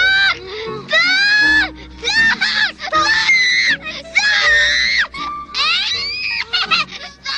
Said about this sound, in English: That's the scream of a child who is traumatized for life.